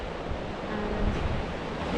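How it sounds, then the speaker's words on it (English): Waves washing onto a quiet beach under wind, a steady close roar of surf with gusty rumble and no voices. "And it's a relatively safe beach to swim in."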